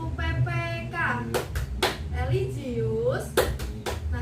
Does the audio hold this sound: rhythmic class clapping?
yes